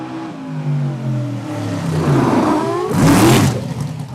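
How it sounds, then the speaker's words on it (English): A racing truck engine revs up and down, a mid-pitched drone that rises in pitch and loudness, then surges into a louder burst before easing off, heard close and alone. "you can tell their truck automatically by just the way it revs up and revs down"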